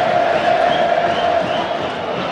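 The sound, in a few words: football stadium crowd awaiting a free kick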